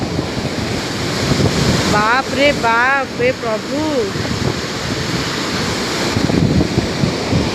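Fast-flowing floodwater of the Mahanadi river rushes with a loud, steady roar, mixed with wind buffeting the microphone, while a voice briefly exclaims over it near the middle.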